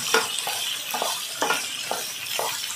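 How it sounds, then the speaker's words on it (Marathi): Sprouted matki (moth beans) with peanuts are sautéed in a pan, a spoon scraping and stirring in a regular rhythm of about two strokes per second over a soft continuous sizzle, close by and without talk. "हे सुद्धा 1-2 मिनिटं छान असं परतून घ्यायचं आहे."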